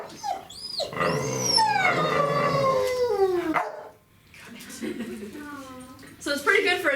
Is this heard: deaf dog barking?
yes